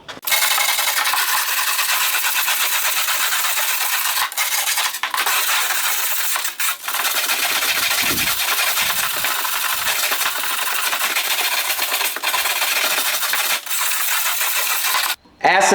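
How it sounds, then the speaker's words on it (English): A stainless steel wire brush kept only for aluminum scrubs bare aluminum on a boat transom before welding, making a continuous close, harsh bristly rasp with brief pauses between strokes. "Stainless steel brush dedicated only to aluminum."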